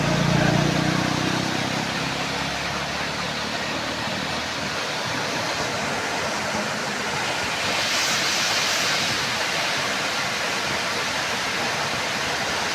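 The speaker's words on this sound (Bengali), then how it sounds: "গেটের উপর দিয়ে পানি যাচ্ছে" Water pours over the open gates of the Teesta Barrage in a constant, loud roaring rush that holds steady throughout, with no voices.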